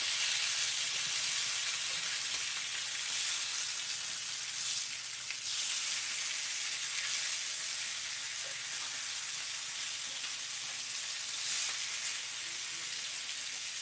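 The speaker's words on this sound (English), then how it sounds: "a really good equal sizzle, right?" Steak and potatoes fry in a cast iron pan with a steady, bright sizzle and hiss that holds evenly from start to finish, close and moderately loud, with no talk over it.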